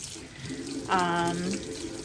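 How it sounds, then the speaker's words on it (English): Water runs from a tap in a short burst, splashing into a sink amid quiet room noise. "So I'm washing my hands"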